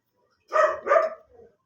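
Two quick dog barks in close succession, followed by a faint short whine, alone against silence, in the Roblox horror game Subconscious.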